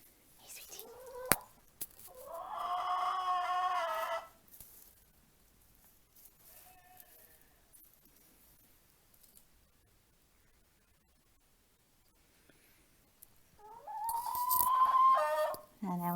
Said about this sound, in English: We've got Daisy the sheep, and Daisy the hen.